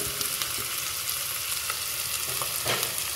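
Crushed green chilli with coriander powder, cumin powder, red chilli powder and turmeric sautéing in a pan, a soft, continuous sizzle with occasional light stirring taps, fairly quiet and with no voices.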